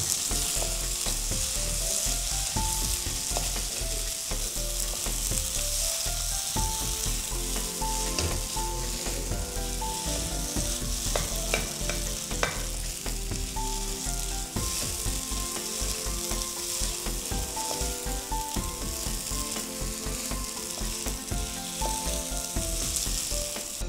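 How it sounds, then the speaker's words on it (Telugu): Eggs sizzle and fry in a pan with tomato masala and pepper, sputtering steadily and loudly throughout while a utensil scrapes and stirs the mixture in repeated strokes. "ఈ ఎగ్స్ని అండ్ ముందున్న టమాటో మిక్సర్తో మిక్స్ చేస్తున్నాం."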